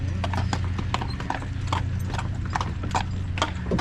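Carriage horses clip-clop steadily and close by on a road on car-free Mackinac Island, their hoofbeats in a continuous rhythm alongside creaking carriage mechanisms.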